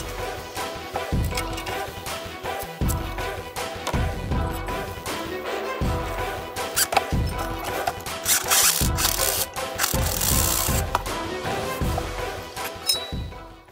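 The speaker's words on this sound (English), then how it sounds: "This heat shield's in my way, so I'm gonna go ahead and remove that as well." Metal clinks and scraping rubs from a heat shield being worked loose on a 6.7L Dodge Cummins engine come in irregular bursts, close and fairly quiet, with occasional sharper pings.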